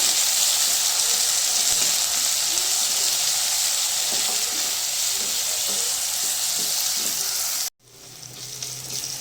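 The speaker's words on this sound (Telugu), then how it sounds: "అల్లం వెల్లుల్లి పచ్చి వాసన పోయే వరకు ఫ్రై చేసుకోవాలి" Ginger-garlic paste, green chillies and curry leaves fry in hot oil in a pan, a steady loud sizzle that runs unbroken for several seconds, then cuts out abruptly and resumes more quietly.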